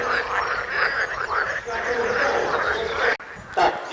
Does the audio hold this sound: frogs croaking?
yes